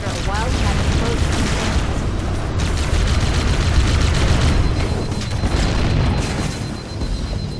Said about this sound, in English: That should be enough to trigger a wildcat explosion.